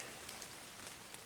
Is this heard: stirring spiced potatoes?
no